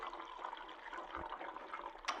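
A vitalized water maker swirls water into a vortex, giving a soft, steady churning and trickling with a faint low thump partway through, fairly quiet and with no talk.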